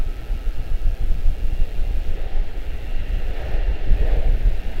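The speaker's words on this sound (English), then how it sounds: "Have an arrival touching down here." Airliner touching down at Charlotte-Douglas International Airport, heard as a steady, loud low rumble with wind noise on the microphone, lasting throughout with no voices.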